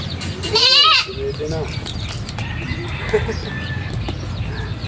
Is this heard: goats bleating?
yes